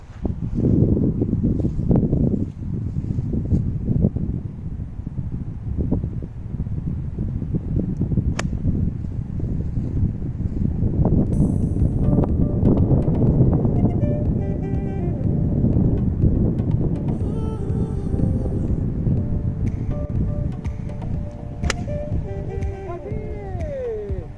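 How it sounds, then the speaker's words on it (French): Strong headwind on a golf course buffeting the microphone, a broad rumbling roar that swells and gusts for over twenty seconds, with faint higher clicks and tones scattered through the middle and end. "Gros vent de face encore."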